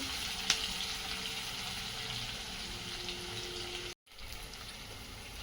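Onion sautéing in a pan for vegetable pulav gives a steady, close frying sizzle with a broad hiss that runs almost throughout, one sharp click near the start and a brief dropout just before the end.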